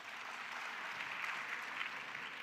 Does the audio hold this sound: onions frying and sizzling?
no